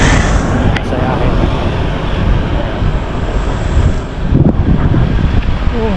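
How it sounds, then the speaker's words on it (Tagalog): Wind blows steadily outdoors along a walking route, a continuous broadband rush with gusty swells that stays loud and close throughout. "Sarap ng hangin."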